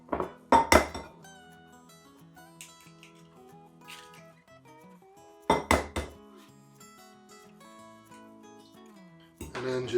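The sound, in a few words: beating eggs in a bowl for egg drop soup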